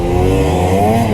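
A two-stroke snowmobile engine revs close by in a brief, loud burst of high-pitched buzzing roar that holds at full throttle and rises slightly at the end.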